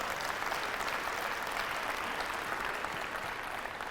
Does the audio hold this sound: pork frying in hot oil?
no